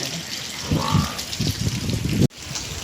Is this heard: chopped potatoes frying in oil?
no